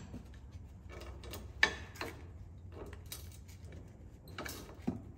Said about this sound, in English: Get yourself a big screwdriver and pry it off.